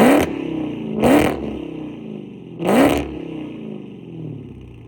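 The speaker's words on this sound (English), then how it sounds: "now we'll get you some revs in the back" A Dodge Hellcat's engine revs three times in a parking lot, each sharp rising roar falling back to a rumbling idle between the bursts, close and loud.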